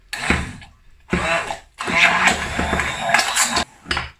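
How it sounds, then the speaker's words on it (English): A handheld stick blender whirs in bursts as it blends a vegan coleslaw dressing with celery seed, several loud pulses broken by short pauses. "And now blend this up with my balsamic stick blender."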